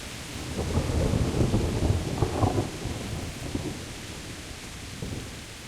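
Rain pours steadily around the listener at 4 a.m., with low rolling thunder rumbling through the first half and fading to a softer downpour; no one speaks.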